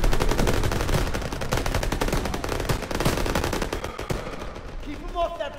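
Machine guns fire in long sustained bursts, a dense rapid rattle of shots loud and close for several seconds, thinning out near the end as the fire tapers off.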